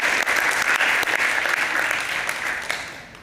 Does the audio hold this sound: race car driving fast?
no